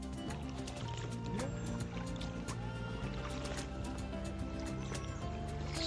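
A kayak is launched into the River Nidd at Knaresborough, with close water splashes, gurgles and drips and knocks against the hull, and faint voices in the background.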